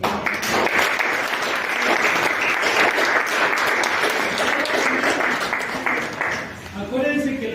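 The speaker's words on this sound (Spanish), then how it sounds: "y te damos un fuerte aplauso" A church congregation breaks into loud, sustained applause, dense clapping filling the room at steady volume for several seconds, with voices mixing in near the end.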